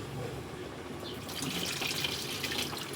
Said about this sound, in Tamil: அந்த பக்கம் வந்து புளி தண்ணி ஊற்றிக்கலாம்